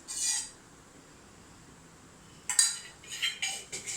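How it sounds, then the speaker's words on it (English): A spoon clinks against a pan while adding ghee to a semolina milk sweet, giving one short metallic clink followed by a second cluster of several brighter taps and scrapes, with no talking. "Now I am adding half a spoon of ghee in this"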